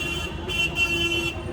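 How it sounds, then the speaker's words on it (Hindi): Car horns honk in busy Kolkata street traffic during Durga Puja, a short tonal blare over a steady traffic hum, close and fairly loud. "यहाँ हॉर्न बहुत बजाते हैं यार"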